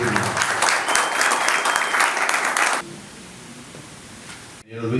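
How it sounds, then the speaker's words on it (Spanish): Strong audience applause thanking a guest at a formal gathering: loud, dense clapping for nearly three seconds, then dropping to a quieter room tone before a brief cut. "darle las gracias de nuevo con un fuerte aplauso"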